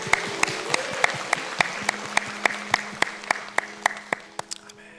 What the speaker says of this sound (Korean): 우리를 위해 십자가 지신 예수님께 영광의 박수 올려드립니다.